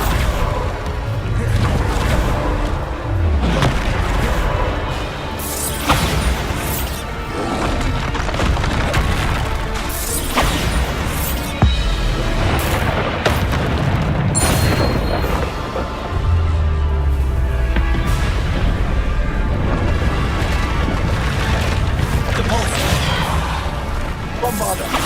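Bombarda spell blasts in the video game Hogwarts Legacy go off again and again as loud booming, splintering explosions with crackling debris, under a dense battle soundscape with a voice shouting over it.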